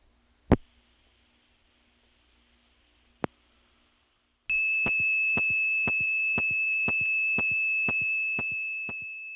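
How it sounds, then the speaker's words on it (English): Supervision noises on a telephone trunk line: a couple of sharp isolated clicks over faint hum, then a steady bright tone with a rapid, regular train of clicking pulses running under it to the end. "you can actually hear the supervision noises on the trunk"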